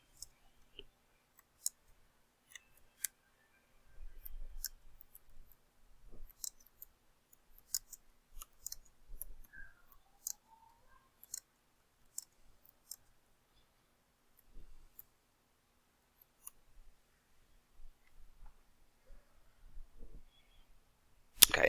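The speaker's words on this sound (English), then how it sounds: "And I can type in a comment." Quiet clicking of a computer keyboard as a comment is typed, in scattered bursts of keystrokes separated by short pauses, faint and close with no voices.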